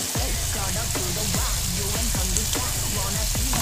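Garlic fries for noodles with vegetables, a loud, dense, continuous sizzle of hot oil with rhythmic stirring scrapes of a utensil running through it.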